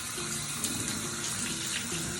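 Shower water runs in a steady, close hiss for a puppy's bath, continuous and fairly loud with no pauses or voices over it.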